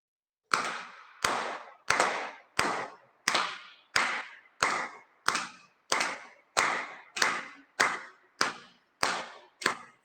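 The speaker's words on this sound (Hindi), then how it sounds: "अब तालियां बजाएंगे अपन 15 बार।" A group claps hands fifteen times during a yoga session, sharp evenly spaced claps roughly every two thirds of a second, loud and close with no voices over them.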